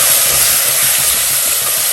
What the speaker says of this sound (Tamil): தக்காளி பழம் ஒரு அரைப்பழம் நல்லா வதங்கணும்